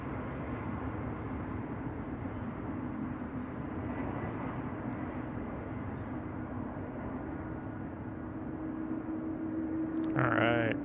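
Jet airliners departing at San Francisco Airport, a steady distant engine roar with a low drone, swelling slightly toward the end, while a voice talks over it.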